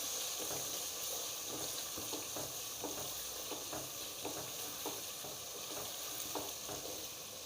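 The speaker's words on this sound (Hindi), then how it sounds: "अब इसे भूनूंगी।" Ground red chilli and masala being fried for matar gosht in a pan, a steady close sizzle with rhythmic scraping and stirring strokes about every half second, no voices.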